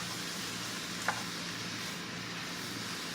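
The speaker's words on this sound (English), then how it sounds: "It's browning with the onion, and it's just going to caramelize a little bit." Ground beef and onion browning in a pan give off a steady, soft sizzle that keeps going throughout, with a single brief clack near the start and no talking.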